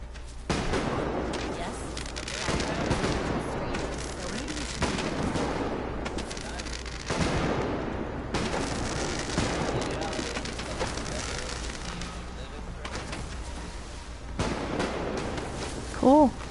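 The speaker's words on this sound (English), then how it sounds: "Well, let's turn on the fireworks. Oh, there they go." Fireworks set off at Abernathy Farm in Fallout 4, heard as a steady run of booming, crackling bursts that overlap one another, loud and continuous throughout.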